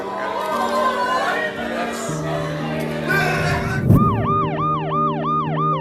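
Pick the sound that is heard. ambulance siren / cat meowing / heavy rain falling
ambulance siren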